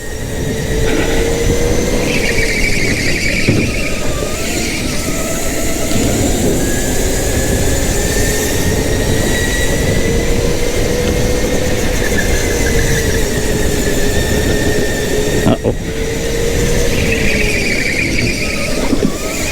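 Go-kart tires squealing from lack of traction on a karting track, a continuous, loud, wavering high-pitched screech under steady engine drone that rises and falls as the kart slides through corners.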